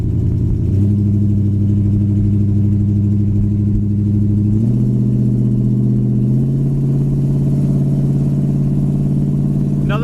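A 1968 Plymouth Satellite with power steering cruises down the road, its engine droning loud and steady from inside the car, with pitch steps as it shifts gears and speed changes.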